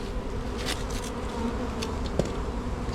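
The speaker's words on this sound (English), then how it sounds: "we have this nice lump of bees over here" A swarm of honeybees buzzes during the removal of a hive from a bin, a dense, steady hum with individual bees whizzing close past the microphone.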